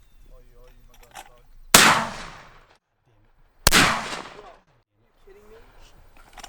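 Two loud, close shotgun blasts about two seconds apart during a dove hunt, each ringing out and fading, with people talking quietly before and after.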